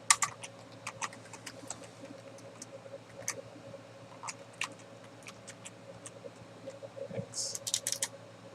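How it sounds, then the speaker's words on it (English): Quick, irregular clatter of keys typed on a computer keyboard, close by, with brief pauses and a few louder taps. "Just keep freaking typing the wrong letters"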